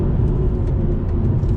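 A 2020 BMW M340i sport sedan accelerates hard on throttle, its engine delivering a loud, steady, low rumbling drone close by with no talk over it.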